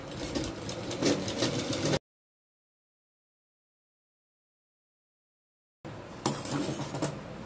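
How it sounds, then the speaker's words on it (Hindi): Sewing machine stitching over tetron interlining on a sleeve, a steady close mechanical whirr that runs, cuts to silence for several seconds, then resumes. "इसको अच्छे से यहाँ सेंटर से इस तरह से मिलाते हुए रखेंगे और हल्का सा टेट्रॉन के ऊपर सिलाई को लगाएंगे।"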